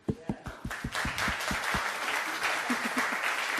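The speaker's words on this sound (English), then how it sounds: "Round of applause for the lady." A Bitcoin meetup audience gives a round of applause. A few distinct, spaced claps come first, then they swell into a fuller, continuous patter of hands at moderate distance.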